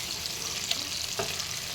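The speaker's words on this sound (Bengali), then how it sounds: "এটা একটু ফ্রাই হবে" Whole garam masala spices, tomato, ginger and green chilli fry in hot oil in a pan for vegetarian aloo dum, a steady close sizzle with a couple of faint clicks and no voices.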